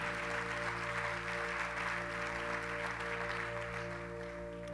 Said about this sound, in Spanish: Ahora, denle un aplauso al Señor.